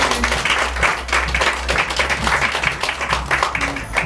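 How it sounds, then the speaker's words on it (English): Wedding guests break into applause right after the couple is pronounced husband and wife: a full, continuous crowd clapping, fairly loud and close, with a low hum beneath it. "Give a big round of applause."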